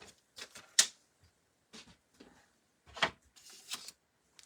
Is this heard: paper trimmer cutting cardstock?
yes